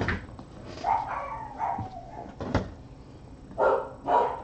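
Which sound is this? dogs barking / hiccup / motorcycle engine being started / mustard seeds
dogs barking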